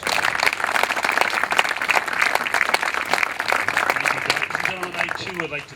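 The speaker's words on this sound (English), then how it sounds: "Let's have a big round of applause for Mayor Rob Hutchins." A crowd applauds for the mayor at a community event, steady dense clapping sustained for about five seconds before fading, with a voice speaking near the end.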